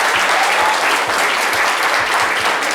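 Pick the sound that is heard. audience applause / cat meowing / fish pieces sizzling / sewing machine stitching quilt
audience applause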